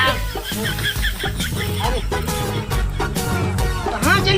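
A hen clucks repeatedly amid a busy, loud mix of music and other sounds in a rural comedy skit about threshing wheat, the clucks short and broken at close range.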